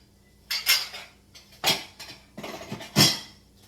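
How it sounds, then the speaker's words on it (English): Clean dishes and cutlery being lifted out of a home kitchen dishwasher, with several sharp clinks and clatters of plates and silverware in irregular bursts, close and fairly loud. "We're going to take the clean dishes out of the dishwasher"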